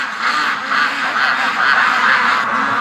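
A crowd of ducks quacks together close by at a gate, a steady, dense chorus of overlapping calls with no pauses.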